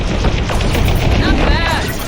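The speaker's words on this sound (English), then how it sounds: "Fire missiles!" Missiles launching from a starfighter in the space-combat video game Star Wars Squadrons, a dense loud roar of bursting blasts and whooshes layered with game effects and dialogue over about two seconds.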